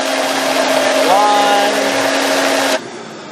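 A Vitamix blender runs loud and steady, churning a frozen ice cream mixture, its motor pitch shifting briefly partway through before it cuts down to a quieter whir near the end.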